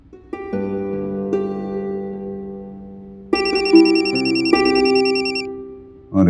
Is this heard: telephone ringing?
yes